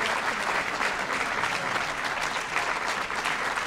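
Audience applause welcoming Governor Linda Lingle at a Maui Chamber of Commerce keynote, a steady, dense wash of clapping from a full room, sustained evenly throughout with no voices over it.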